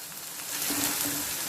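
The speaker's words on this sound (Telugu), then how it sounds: "ఉల్లిపాయలు కాస్త మనం ఫ్రై ఫ్రై అయ్యే వరకు ఉంచుకుందాం" Onions frying in a pan for a mutton curry give a steady, soft sizzle that swells slightly partway through, heard alone and close with no talk.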